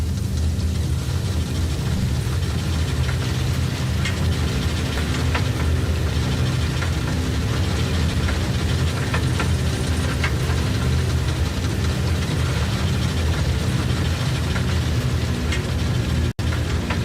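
DC-3 piston engines in Microsoft Flight Simulator 2020 drone in a loud, dense, continuous rumble throughout, steady without pauses.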